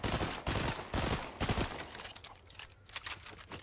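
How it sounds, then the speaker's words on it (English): Rapid bursts of Fortnite gunfire crack out in a tight cluster early on, then thin into scattered sharper shots toward the end, loud and close with no talking over them. "I just gotta shoot."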